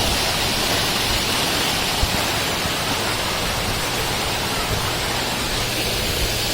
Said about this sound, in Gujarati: અને કેટલો મસ્ત ધોધ આવે છે.